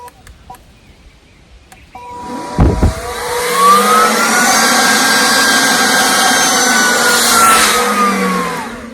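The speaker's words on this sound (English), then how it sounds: "How awesome is this blower?" A SEESII electric leaf blower from a cordless 3-in-1 lawn mower and blower combo kit spins up after a short pause, then runs with a loud, steady motor whine before easing off at the end.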